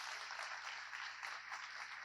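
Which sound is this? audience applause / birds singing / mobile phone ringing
audience applause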